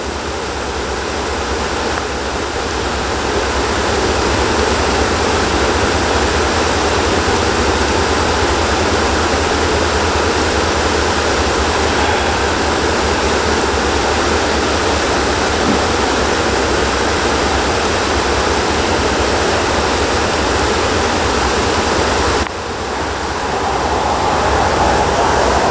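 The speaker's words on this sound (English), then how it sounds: "And just watch the river." A river rushes steadily in a continuous, loud broadband roar of flowing water, heard up close and alone without voices, with a brief dip near the end before the flow resumes.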